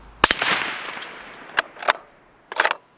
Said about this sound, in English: you definitely have that nice supersonic crack